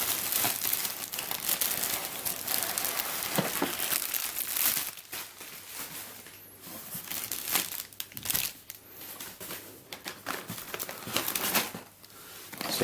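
Plastic packaging crinkles and rustles as Shapeways 3D-printed parts are unboxed, with close, continuous crackling handling noise that swells and dips in irregular bursts.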